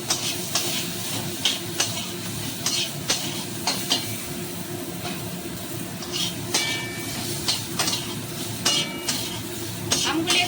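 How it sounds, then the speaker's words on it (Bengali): Mango pieces stir-fried with chilli and five-spice in a pan make a continuous sizzle broken by repeated scraping and clanking of a spatula against metal; no one speaks. "এবার আমগুলো আমি দিয়ে নিলাম"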